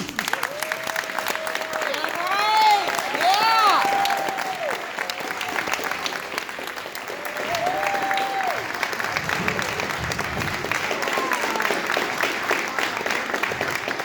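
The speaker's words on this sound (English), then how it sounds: "please join me in giving a warm and thunderous applause to our very own Howard Darren" A birthday celebration audience claps steadily for a long stretch, with a few whoops and cheers rising through the middle of the applause before it eases off, no talk over it.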